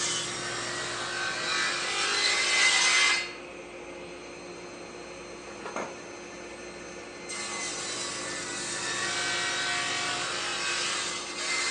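Figured maple wood is cut with a hand saw in long, rhythmic rasping strokes, pausing briefly in the middle before the sawing resumes, close and alone.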